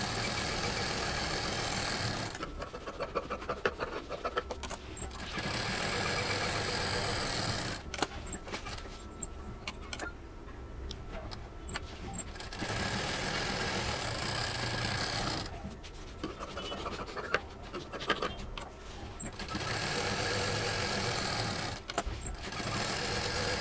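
A sewing machine quilts layers of fabric, foam and lining for a reversible shopping bag, running in long steady stretches broken by brief pauses and small clicks.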